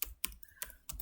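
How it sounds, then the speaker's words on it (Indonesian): Keys tapped on a computer keyboard while entering a hostname in a switch terminal, three or four quick clustered bursts of clicks, close and fairly quiet, with no talking. "di sini kita akan ketik"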